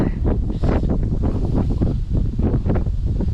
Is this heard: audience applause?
no